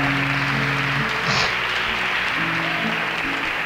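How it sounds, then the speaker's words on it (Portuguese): Church congregation applauding during a sermon, a steady wash of clapping from many hands filling the room, with a brief voice near the middle. "Então aplauda o Senhor se essa guerra é contra o inferno."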